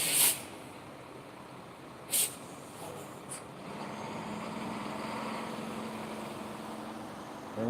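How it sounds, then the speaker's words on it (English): A car drives away along a road after a traffic stop, its engine a low, faint hum that rises gently and holds steady, with a few sharp clicks and knocks near the start. "And there goes the guy's car."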